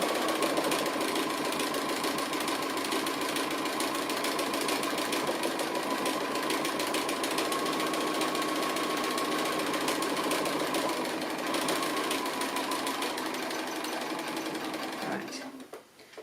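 Sewing machine stitching a sweet-treats appliqué, running in one long steady rapid whir close by, nearly constant until it stops abruptly near the end, with a voice talking over it.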